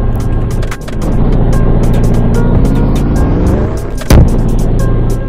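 A car drives through a Roblox hood game, its steady engine drone holding loud and continuous throughout, with a sharp burst partway through.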